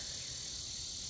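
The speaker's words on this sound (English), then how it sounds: "And it's these cicadas. I think that's what they are. Do you hear that?" Cicadas drone loudly and steadily on a suburban street, a dense continuous high buzz filling the whole moment with no voice over it.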